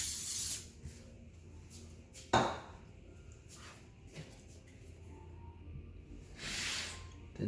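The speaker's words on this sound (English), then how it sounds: "I'm going to give it a bit of grease." Grease spray mists over a pastry tray and flat tart ring in a few short, close hisses, separated by quiet pauses and light handling noise.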